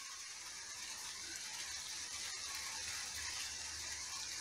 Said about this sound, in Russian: Ох, какой дождик пошел.